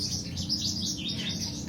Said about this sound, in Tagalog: Ayun po yung sunbird